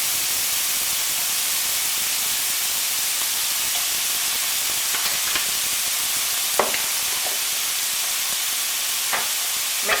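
Beef mince and garlic brown in a pan, giving a steady, close hiss of sizzling with occasional sharper crackles and pops, no voices.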